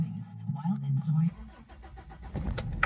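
A Toyota Hilux Revo GLX cranks and starts once, its engine settling into a low, steady idle that carries on after a short burst of voice.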